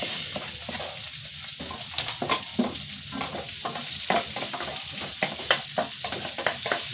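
Garlic and then onion sautéing in hot oil for pancit canton, a loud continuous sizzle broken by repeated scraping stir strokes close up, with no talking.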